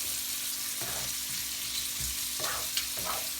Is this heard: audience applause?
no